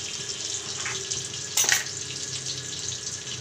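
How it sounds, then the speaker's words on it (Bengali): Tomatoes frying in a pan for a kalojira eggplant hilsa curry, giving a steady soft sizzle throughout with a brief louder hiss and splutter near the middle, with no talking. "টমেটো ভাজতে দিলাম।"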